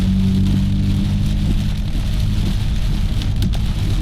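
Steady heavy afternoon thunderstorm rain drumming on surfaces along a mountain highway, a dense continuous wash with low rumbling undertones throughout, no voices.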